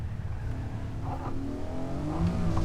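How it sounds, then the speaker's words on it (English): A stock Honda NSX engine in the Assetto Corsa video game at Laguna Seca revs hard and steadily, a loud throaty drone that rises slightly in pitch as it accelerates. "It's very accurate to the way an actual NSX would sound in real life."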